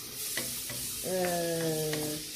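Onions sizzling and frying in a pan with a stirring scrape, while a steady tone hums in the background; no talking.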